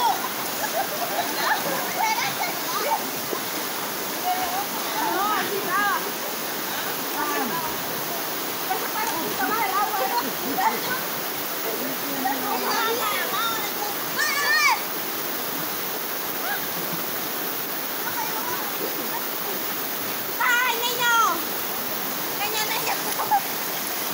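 A river swollen after rain rushes and splashes steadily nearby. People talk in Spanish over the water throughout.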